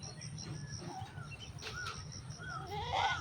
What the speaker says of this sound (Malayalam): Pygmy ആടായിരിക്കും, pygmy Aadu.